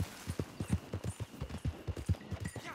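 Hooves of a video game horse clip-clop in a quick, steady trotting rhythm, close and moderately loud, with no talk over them.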